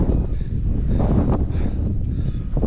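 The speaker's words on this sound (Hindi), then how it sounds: "बहुत ही तेज हवा आ रही है।" Strong wind blows on a mountain trek in Uttarakhand, a loud, constant buffeting roar with gusty rumble hitting the microphone throughout.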